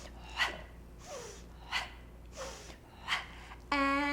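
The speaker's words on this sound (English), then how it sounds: "3 pumping exhales" Three sharp, forceful breath exhales in a yoga exercise, evenly spaced with softer inhales between them, close and clear, followed by the first tone of a voice.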